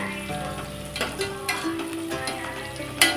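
Onions fry in a pan for soya chunks pulao, a continuous close sizzle with occasional stirring scrapes and a sharper clack at the very end, and no one speaking.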